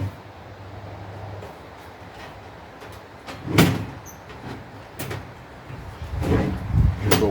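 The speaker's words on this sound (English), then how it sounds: "This has got to pull off, and then it locks the bottom into place." A Coleman camp stove oven is fitted together and its bottom locked into place, a few sharp metallic clunks and rattles at close range against a quiet background.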